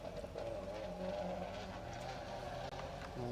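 Rally car engine on an asphalt stage of Rally Ceredigion 2023, a low steady rumble at a distance, faint and continuous with no clear revving, and no talking over it.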